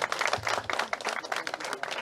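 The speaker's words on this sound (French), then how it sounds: "Sous vos applaudissements, s'il vous plaît." Brief applause from an audience at an inauguration ceremony, with distinct individual claps audible in an uneven, moderately close patter over two seconds.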